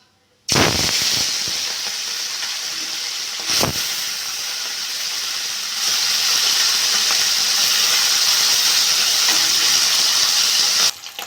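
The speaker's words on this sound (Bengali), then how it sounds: "মাছগুলো ভেজে নেব।" Small mourola fish hit hot mustard oil in a heated kadai, setting off a loud, steady sizzling hiss that starts abruptly and runs unbroken, with a sharp pop partway through.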